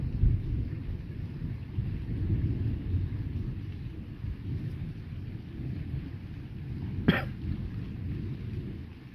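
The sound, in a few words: rain falling during thunderstorm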